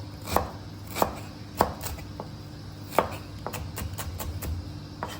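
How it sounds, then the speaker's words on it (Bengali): Knife chopping half an onion on a board for a shol fish dish, a handful of crisp, separate knife strikes spaced irregularly, then lighter, quicker taps, close and alone with no talk. "একটা পেঁয়াজের হাফ নিব, কুচোই নিলাম।"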